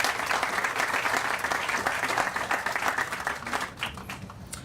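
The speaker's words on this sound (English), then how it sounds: "let's give them a big round of applause." A university crowd applauds steadily at an outdoor groundbreaking ceremony for a new student apartment complex, the dense clapping loud and sustained throughout before thinning slightly near the end.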